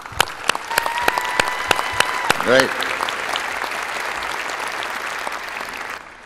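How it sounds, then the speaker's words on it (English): Graduates at a spring university convocation applaud in a large hall, a steady crowd clapping that swells and then fades, with a brief spoken word near the start. "I think that you should give yourself a round of applause to mark this special day."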